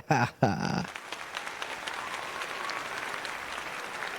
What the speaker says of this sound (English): They're all clapping for us.